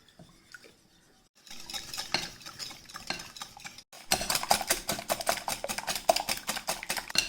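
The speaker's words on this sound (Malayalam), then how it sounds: "എന്നിട്ട് നമുക്ക് ഇത് നല്ല വൃത്തി ഒന്ന് ബീറ്റ് ചെയ്ത് കൊടുക്കാം." Rapid rhythmic whisking of a mixture seasoned with salt and oregano in a bowl for a noodle dish, close-up clicking and scraping strokes that start after a quiet pause and grow louder and more vigorous after a brief break.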